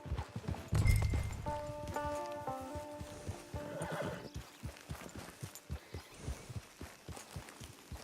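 A horse in the video game Red Dead Redemption 2 gives a loud, close whinny, then steady hoofbeats follow in a rhythmic clip-clop that continues to the end.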